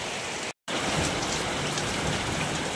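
A downpour of heavy rain roars in a continuous, loud wash, broken only by a brief dropout near the start.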